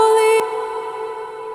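A sung vocal note on a church hymn cuts off abruptly, leaving a long, smooth reverb tail that rings on steadily and fades only slightly over more than a second.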